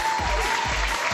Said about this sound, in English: We can give you applause for that as well.